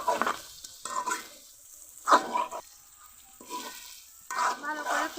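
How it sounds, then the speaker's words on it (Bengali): Small fried crabs and fried cucumber being stir-fried together with spices in a pan: bursts of scraping and sizzle come in separate strokes, close and moderately loud, with short quieter gaps between them. "ভেজে রাখা কাঁকড়াগুলো দিয়ে দিব একসাথে। ভালো করে আরও কিছুক্ষণ কষিয়ে নিতে হবে।"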